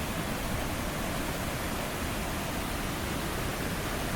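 Water rushes over a spillway in a dense, steady roar of broadband noise, constant and unbroken throughout with no voices.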